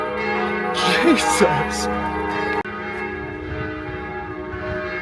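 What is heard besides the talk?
church bell ringing at noon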